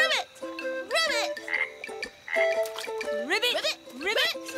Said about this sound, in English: It's only a frog, Chavapa